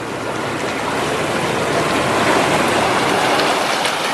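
ARCTIC-510 boat sliding down into the water of the Ob Sea, a loud continuous rushing, splashing wash of water close by with no talk over it.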